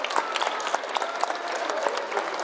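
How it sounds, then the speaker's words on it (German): Steady, dense applause from an outdoor audience at an Easter rally prize-giving in Klagenfurt's Südpark, many hands clapping evenly and fairly close without letup. "Ich darf euch alle bitten, einen kräftigen Applaus."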